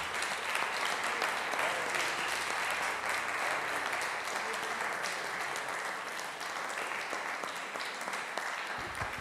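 A church congregation breaks into sustained, dense applause, loud and continuous for several seconds before easing slightly toward the end.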